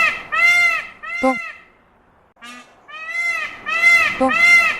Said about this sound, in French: Paon.